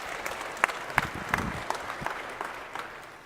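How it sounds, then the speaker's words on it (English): Applause from a church congregation, a steady patter of clapping hands with a few sharper individual claps standing out, moderately loud and continuous for the full few seconds. "give him a round of applause"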